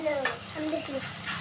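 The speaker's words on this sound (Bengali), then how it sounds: "সর্ষের পেস্টটা 2 মিনিট ভেজে নেব।" Mustard paste fries in a pan with a soft sizzle and a quick stirring scrape, short and fairly close, with a faint voice-like murmur underneath.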